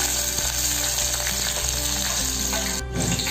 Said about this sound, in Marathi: तेलात मिरची टाकते